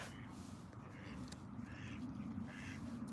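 Ducks and geese quack and call repeatedly at a distance, a few calls rising over a steady outdoor background hum.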